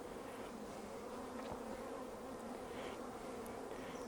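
Honey bees swarm around an open hive, a steady dense buzz with individual insects droning close past now and then, no voices.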